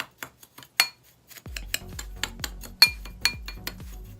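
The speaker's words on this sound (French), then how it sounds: "On va défaire notre cassonade ici." Brown sugar is broken up in a small bowl with a utensil, producing a run of crisp clinks and taps against the dish, irregular at first, then a steadier rhythm of scraping knocks, close and clear.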